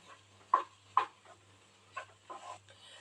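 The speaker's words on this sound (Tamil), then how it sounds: "சேர்த்து நல்லா கிளறி விட்டுக்கலாம்." Cooked rice with drumstick leaves is stirred in a kadai, giving faint, sparse scrapes and soft clinks in a quiet room.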